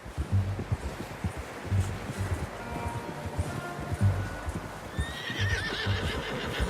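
A horse in the video game Red Dead Redemption 2 clip-clops along at a steady walking pace, then whinnies loudly near the end, with light rustling in the background and no talking.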